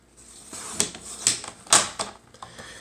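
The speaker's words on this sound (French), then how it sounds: "Je vais m'assurer que je coupe toujours le côté droit de la carte." Board game cards being cut along one side with a paper trimmer, a few sharp clacks and snips in an uneven rhythm close to the microphone, with quiet gaps between cuts.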